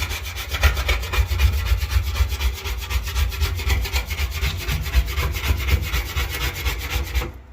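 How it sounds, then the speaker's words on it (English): Rapid, rhythmic scraping as a razor blade rasps caked-on residue off a house floor during cleaning, a loud, close, gritty back-and-forth rub that runs continuously without talk. "just gotta use a razor"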